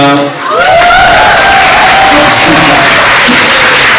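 A loud crowd cheers and whoops for a singer arriving at a dinner event, with a voice over a microphone rising above the sustained roar.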